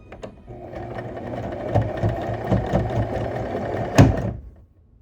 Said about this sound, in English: And then take the machine and stitch.